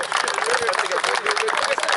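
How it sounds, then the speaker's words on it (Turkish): An audience applauding the champion at a masters sports tournament in İzmir, a dense, steady patter of many hands clapping at moderate loudness throughout, with voices mixed in. "Alkışlayın lütfen arkadaşlar."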